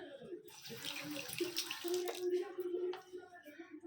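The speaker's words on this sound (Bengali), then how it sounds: "প্লেট ধুচ্ছি, ধুয়ে জল দিই" Plates are washed under a running tap, with a steady splash of water and clatter of dishware close by and a voice speaking over part of it.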